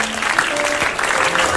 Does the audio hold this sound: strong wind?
no